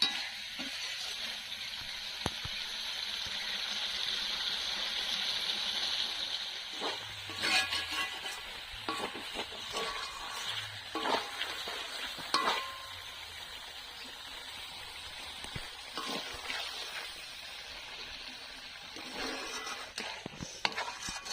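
Chicken pieces for chicken posto sizzle steadily as they fry in hot oil, with a spatula scraping and stirring through the pan now and then; no one speaks.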